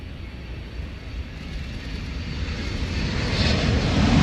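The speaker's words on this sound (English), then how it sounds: "It's the oil spill aircraft." An oil spill response aircraft flies past at an air show, its engine roar a steady broadband drone that slowly swells louder as it approaches.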